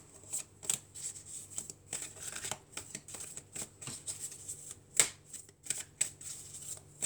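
Oracle cards being shuffled in the hands for a French daily guidance reading, a steady run of soft papery riffles and flicks with a few sharper snaps, close and fairly quiet, with no talking.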